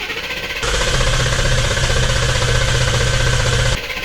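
2018-20 Ford F150 with the 5.0 engine cranking with the throttle held down to prime oil after an oil change, a steady rapid rattling starter drone lasting about three seconds, then cutting off abruptly.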